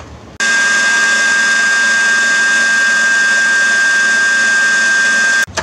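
An electric mixer blends cake batter made with oil and apple juice, running at a steady, loud whir for about five seconds before it switches off.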